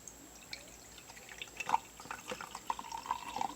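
Water poured into a container for making glue slime, a faint trickle with soft drips and splashes, quiet and close with no talk.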